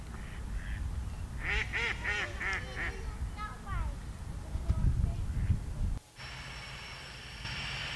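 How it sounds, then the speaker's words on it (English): Ducks on a lake at Longton Brickcroft, with several nasal quacks and honks in quick bursts close by over outdoor wind noise and low murmuring voices, ending in a steady hiss. "2 ducks have just plopped into the water and are now swimming away"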